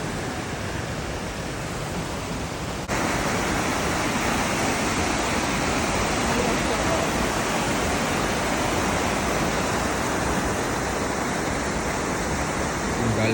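A rushing stream in Slovenia pours steadily over rocks near a waterfall. The roar is loud, close and unbroken, swelling a little after the first few seconds. No one speaks.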